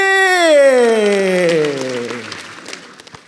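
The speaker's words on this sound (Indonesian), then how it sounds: "Sekali lagi boleh tepuk tangan buat Deswin Fakih" A studio audience at a stand-up comedy competition applauds comedian Deswin Fakih, the clapping rising under a loud falling musical tone before thinning into scattered claps.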